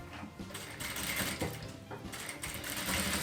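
A domestic sewing machine stitching fabric for a handmade craft piece, a steady fast mechanical whirr with rhythmic needle clatter running throughout, close and alone.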